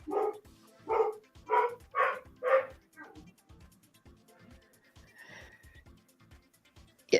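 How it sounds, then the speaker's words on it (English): A dog barks five times in a quick, even run, fairly close, then goes quiet apart from faint snorts and low background noise. "He's not been barking all day."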